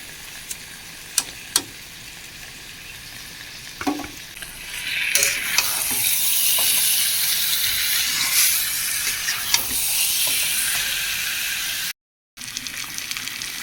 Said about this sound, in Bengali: এখন আমি সিদ্ধ করে জল ঝরিয়ে নিয়েছিলাম এই মাংসগুলো ঢেলে দেব